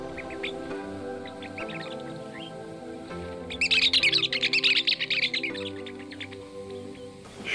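Many birds calling at once in the Australian Outback, a layered mix of chirps and tweets over steady lower calls, swelling into a loud, dense burst of rapid chattering in the middle before easing back.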